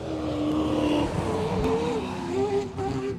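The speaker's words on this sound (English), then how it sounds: "listen to the sound of a rotary like no other" A rotary-engined off-road racing truck at a short course championship, its distinctive buzzing engine note rising and falling in pitch as it drives, fairly loud and steady.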